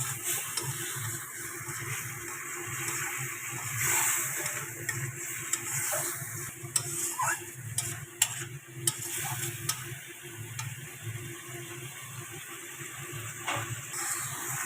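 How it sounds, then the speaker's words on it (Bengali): A spice paste with tomato paste and salt fries in oil in a pan for a rohu fish curry. It gives a steady close sizzle under repeated scraping stirs and light taps. "মশলাটা খুব সুন্দরভাবে কষানো হয়ে গেছে, আর মশলা থেকে তেল ছাড়াও শুরু করে দিয়েছে"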